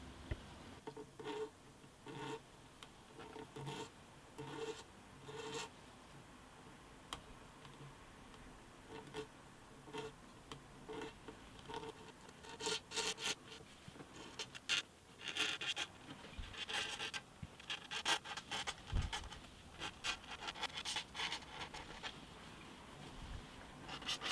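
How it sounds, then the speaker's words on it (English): A scraper works across the wooden top of an antique parlour guitar, a faint, close, steady scratching with irregular light ticks and rasps continuing for the whole stretch, with no talking. "I think I will try scraping it, see what happens"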